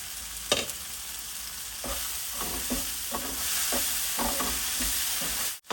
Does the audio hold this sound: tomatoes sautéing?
yes